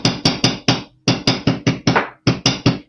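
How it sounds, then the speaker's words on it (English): Wire for chandelier earrings hammered in a steady run of about a dozen sharp, close metallic blows, grouped in short bursts with brief pauses between them and no talk. "I'm being pretty darn careful about my hammering."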